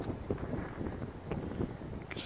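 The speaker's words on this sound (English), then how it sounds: "Perfect day, it's just a shame about the wind really." Gusty wind buffets the microphone in low, rumbling bursts on a clear day with trees nearby, steady and fairly faint, with no voices.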